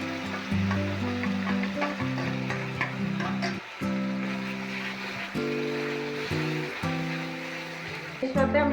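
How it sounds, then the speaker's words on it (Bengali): Ginger-garlic paste sizzles with browned onions in a pan for chicken kosha. A soft frying hiss sits beneath steady, prominent tonal sound, probably speech or music, and stays in the background throughout. "এবার আমি আদা রসুনের পেস্টটা দিয়ে দিলাম"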